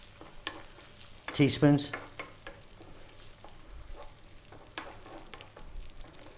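Chicken fried rice stir-frying in a pan, a soft continuous sizzle with scraping stirs, including a louder burst of clatter early on, while a voice briefly speaks.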